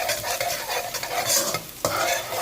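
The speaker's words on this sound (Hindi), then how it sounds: "अब हम जो है ये गार्लिक इसमें शामिल कर देंगे जो हमने चॉप किया हुआ था" Chopped garlic sizzles in hot oil while a utensil scrapes and stirs it around the pan, giving irregular scraping strokes over a steady fry.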